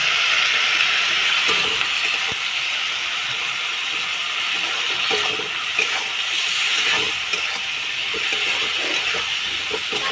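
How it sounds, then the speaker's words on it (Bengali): Water poured over ground spices frying in a pan for a Bengali fish and potato curry gives a steady, loud hiss of sizzling with faint crackles, running continuously without talk. "এর মধ্যে আমি হালকা করে জল দিয়ে দেবো যাতে মশলাটা পুড়ে না যায়।"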